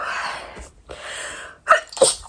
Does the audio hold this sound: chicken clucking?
no